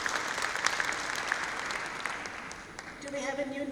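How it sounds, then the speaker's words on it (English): Audience applause in a conference hall at the Durban ICC during an AGM, a lively patter of many hands clapping at moderate volume that fades as a voice begins speaking over a light tonal hum near the end. "round of applause"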